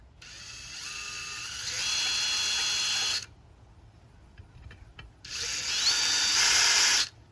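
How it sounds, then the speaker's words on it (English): A power drill whirs close by as it backs out screws from an old doorbell, two sustained high-pitched bursts of a few seconds each separated by a short quiet pause with faint handling clicks. "take the drill and take out our old doorbell"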